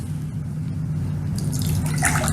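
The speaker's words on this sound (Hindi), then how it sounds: "एक में हम दे रहे हैं आरओ का पानी" RO-filtered water is poured into a glass, a low steady gurgling pour that brightens into splashy trickling near the end, close and moderately loud with no voices.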